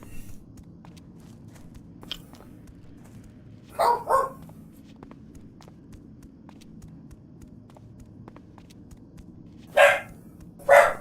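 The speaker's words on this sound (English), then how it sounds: "the dog's gone bananas" A dog barks in short separate bursts in a video game, a few sharp yelps spread over several seconds, moderately loud over a low steady background hum with no talking.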